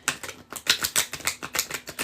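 Rapid riffling bursts of cards being shuffled, a quick series of crisp fluttering clicks repeated several times close to the listener, with no talking.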